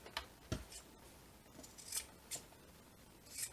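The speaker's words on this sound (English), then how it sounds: "I just cut little squares of Peltex." Scissors cut small squares of Peltex stiffener in a series of quiet, close snips spaced irregularly across a hushed background.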